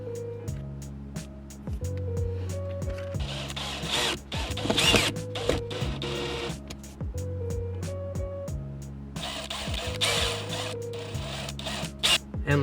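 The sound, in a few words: screwing in bolts on Ford Mustang interior light fixture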